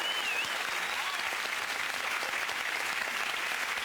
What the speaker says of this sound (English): someone gets a round of applause for remembering their own name